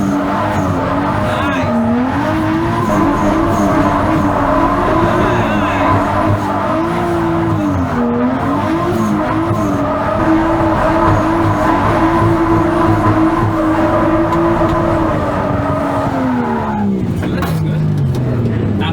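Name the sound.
Nissan Skyline R33 drift car launching and drifting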